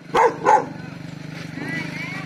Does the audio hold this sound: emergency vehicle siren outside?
no